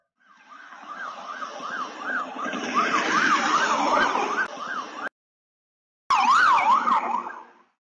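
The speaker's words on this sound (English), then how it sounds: "there were about 4 police cars that chased after the truck" Loud wailing sirens from emergency vehicles sweep up and down close by, cut off briefly by a second of silence, then resume before fading out.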